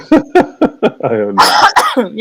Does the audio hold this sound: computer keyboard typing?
no